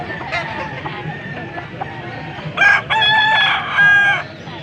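A young rooster (stag) at a gamecock sale gives a short crow, followed by a longer strained crow, close and loud, with other clucks and crowing around it.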